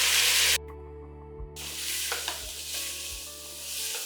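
Three large tomatoes sauté in a pan for sambar with a loud, close sizzle that breaks off briefly, then hisses and crackles on, with a few clinks of stirring.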